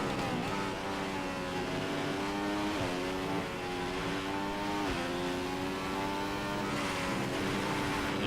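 A Formula 1 racing car engine in the F1 2015 video game screams continuously at high revs, its pitch dropping sharply at several gear shifts and climbing again under hard acceleration.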